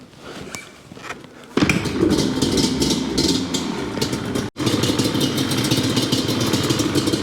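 A 2001 Yamaha Banshee engine is kick-started and settles into a loud, close idle with a steady crackling two-stroke putter and one brief cut in the sound.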